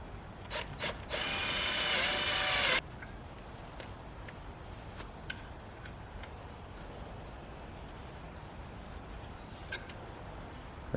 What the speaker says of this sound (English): We're gonna drill a hole so we can set the first screw.